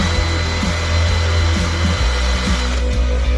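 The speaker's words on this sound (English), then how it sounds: "I like to cheat, put them in a drill, spin them up real fast." A power drill whirs steadily at high speed, spinning a tungsten welding electrode to sharpen it, a loud continuous motor hum with a few brief clicks and shifts in pitch.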